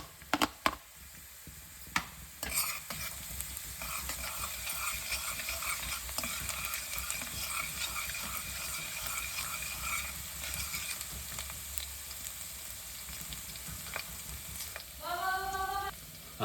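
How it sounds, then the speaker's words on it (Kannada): Finely chopped garlic for white sauce pasta sizzles steadily in a hot pan, a continuous crackling hiss with a few sharp utensil knocks near the start and a brief tonal squeak near the end. "ಈಗ ಮೊದಲಿಗೆ ಬೆಳ್ಳುಳ್ಳಿ ಹಾಕೋತಾ ಇದ್ದೀವಿ"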